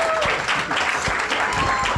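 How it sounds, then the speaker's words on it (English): A crowd at a student hackathon claps steadily, with the applause blended with voices and a faint whistle-like tone heard over it. "Can we put a round of applause,"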